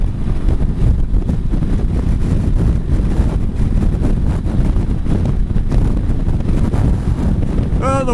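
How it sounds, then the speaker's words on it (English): Steady, loud wind roar buffets the microphone throughout, riding a Honda CB500X motorcycle over a grooved road between San Francisco and the East Bay, with a constant low rumble and no pauses. "Oh, the wind is a little touchy today."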